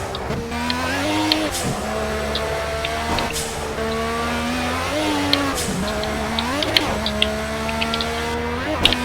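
A race car in the Project Cars racing game holds a steady, close engine whine, then braking pulls the pitch sharply down in several quick steps, with faint tire noise at moments.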